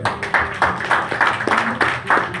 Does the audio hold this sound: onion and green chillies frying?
no